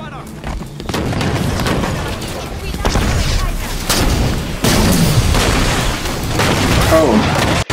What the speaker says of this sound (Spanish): Lanza cohetes.